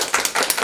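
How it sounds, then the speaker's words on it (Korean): A brief patter of clapping from a small audience at a high school broadcasting club event, a few quick, close claps lasting under a second. "박수."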